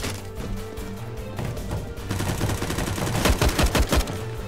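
Gunfire in Counter-Strike: Global Offensive during a ranked match, rapid bursts of sharp shots that grow denser and louder toward the end, layered over game background noise.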